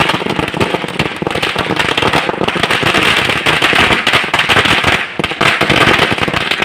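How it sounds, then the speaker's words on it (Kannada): Congress party workers set off firecrackers on a main road in Gudibande, celebrating their legislator's election win; a dense, loud, continuous barrage of cracks and pops rattles on for the whole stretch with no pause. "ಘೋಷಣೆಗಳ ಮುಖಾಂತರ ಪಟಾಕಿ ಸಿಡಿಸಿ ಸಂಭ್ರಮಿಸಿದರು"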